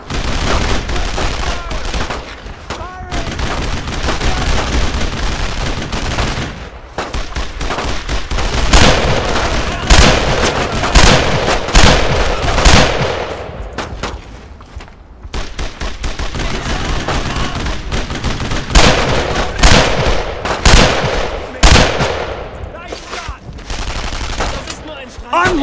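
Machine gun fire in the WWII shooter Brothers in Arms: Road to Hill 30, with long loud bursts of automatic fire broken by short pauses and mixed with other gunshots and battle noise.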